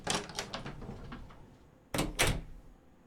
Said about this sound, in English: The sound I heard was the cane hitting the floor.